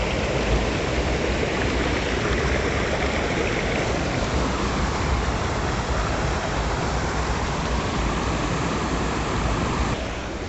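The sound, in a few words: water flowing at a waterfall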